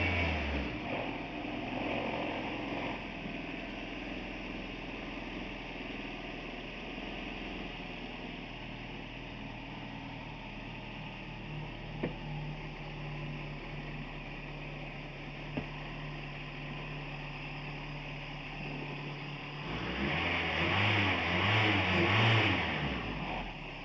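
A car engine running on a homemade engine test stand drones steadily for about twenty seconds with a constant hum, a couple of faint clicks, then swells louder near the end, with no talk over it.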